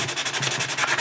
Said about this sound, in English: I'll be using the sanding sponge, the heavy grit sanding sponge, and the heavy grit paper.